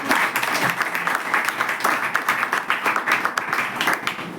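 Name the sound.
applause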